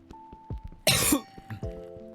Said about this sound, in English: Can't wait for my lingering cough to fuck off.